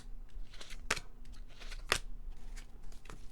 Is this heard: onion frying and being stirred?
no